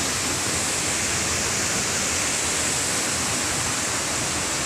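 Busay Falls waterfall, a dense, unbroken roar of falling water that stays loud and steady throughout, with no voices over it.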